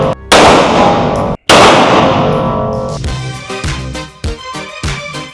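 Gunfire in a shooting game, one very loud sharp shot that rings out and then another after a short gap, followed by a quicker run of shots that fade away, heard with no talking.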